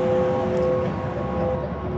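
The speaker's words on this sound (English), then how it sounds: "What you're hearing right now is Max Neuhaus's Times Square, a sound installation that was first activated in" Max Neuhaus's Times Square sound installation, first activated in 1977, rising from beneath a subway grate as a steady, dense drone with sustained tonal hums over a broad rumble, continuous and even throughout.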